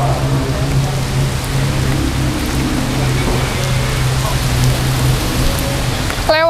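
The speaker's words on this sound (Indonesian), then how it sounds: "kita hujan-hujanan nih, guys." Rain falls steadily outdoors in a dense, even hiss that stays loud throughout, with a low hum running underneath.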